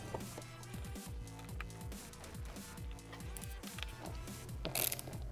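A ratchet clicks in quick, steady repetitions as it tightens a 10mm screw on a tail light and fender eliminator fitted to a Suzuki DRZ 400, close by, with a brief louder rattle near the end.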